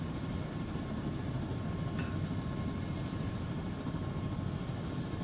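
The cabin of a Chinook helicopter in the Arma 3 military game, a steady, loud, droning rotor and engine rumble that fills the whole stretch without letting up.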